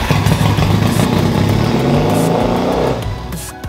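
A cafe racer motorcycle engine fires up on its starter button and runs loud and steady close by, a rough mid-pitched rumble that cuts off near the end as the kill switch stops it.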